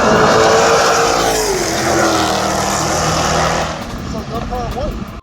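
A Dodge Hellcat tears down a drag strip, its engine roaring loudly and steadily before fading with a falling whine as it moves away, while voices talk over the noise.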